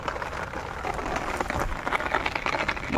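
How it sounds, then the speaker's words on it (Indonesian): Rain falls steadily on a river at Sungai Endau, Malaysia, during a freshwater prawn fishing trip. A dense, loud patter of drops hits the water and nearby surfaces continuously at close range. "Tengok ada hujan tu tak nak berhenti"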